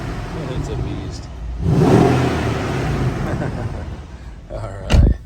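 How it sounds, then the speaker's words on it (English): A 2012 Mercedes E63 AMG sedan's 5.5-liter bi-turbo V8 rises in a loud rev burst, then settles into a rumbling idle, with a second short, sharp blip of the throttle near the end. "Hear that engine there."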